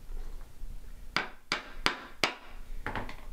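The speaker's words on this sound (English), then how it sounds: "So I'm just going to go around and put in a couple more tacks." A hammer drives tacks around the rim of a mountain banjo to hold its skin, four crisp close taps in a steady rhythm, then a quicker cluster of lighter taps at the end, over quiet room noise.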